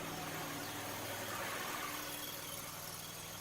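A zero-turn lawn mower engine idles steadily at a garage before loading onto a lawn-care trailer, a constant mid-pitched hum with low vibration and no voices.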